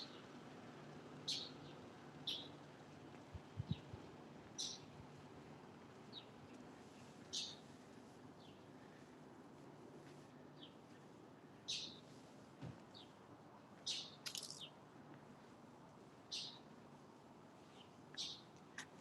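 Short bird calls repeat outdoors on a quiet residential street of red brick houses, each call brief and high, spaced a second or two apart against faint low traffic hum.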